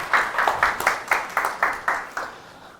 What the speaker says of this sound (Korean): 시간 되시면 큰 박수로.